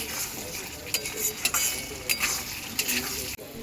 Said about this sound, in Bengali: এটা ভাজা জিরে গুঁড়ো দিয়ে একটু কষাতে হবে